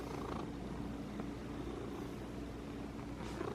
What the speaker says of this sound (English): He's What? purring now.